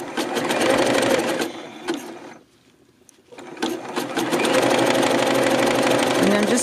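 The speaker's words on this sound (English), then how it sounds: "I'm going to use my regular zigzag stitch. And I'm going to zigzag this on." A sewing machine runs a zigzag stitch attaching fold-over elastic to the edge of a panty or bralette, whirring loudly and close in two long bursts separated by a brief pause.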